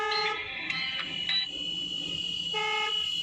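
A car horn sounds at a busy crossroads, several short honks, then a second blast starting near the end of the clip, loud and close over traffic noise.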